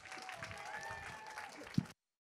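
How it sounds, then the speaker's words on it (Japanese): Faint crowd applause for guests on the red carpet at the Tokyo International Film Festival, a thin continuous patter of clapping with one sharp knock near the end before it cuts off abruptly. "大きな拍手を送りください。"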